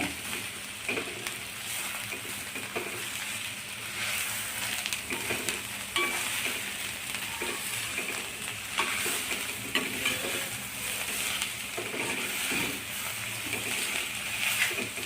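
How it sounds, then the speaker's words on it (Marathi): Ginger, garlic and coriander paste sautés in a pan for a radish-leaf bhaji, with a steady close sizzle and the scrape of stirring that carries on through the whole stretch, with no talking. "आलं लसूण कोथिंबीरची पेस्ट घालणे व्यवस्थित परतून घेणे"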